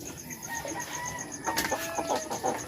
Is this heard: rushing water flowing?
no